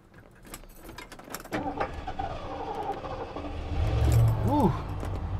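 A 1972 Ford LTD's engine cranks with a struggling starter whine, then catches and settles into a rough running rumble, preceded by keys jangling and someone talking inside the car.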